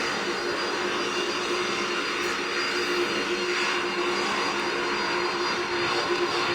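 Airliner passing at an airport in the Roblox game PTFS, a steady, fairly loud engine roar with a broad hiss that holds evenly throughout, no voices over it.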